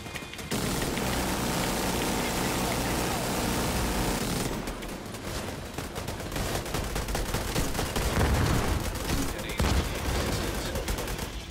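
Gunfire in the video game Division 2 comes as dense rapid automatic bursts and volleys that go on and off through the stretch, with game noise behind them and voices talking now and then.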